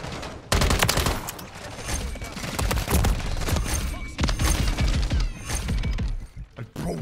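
Gunfire in Modern Warfare 3 multiplayer, with dense rapid shots and booming blasts rolling over each other at close range for several seconds, loud and chaotic with brief gaps.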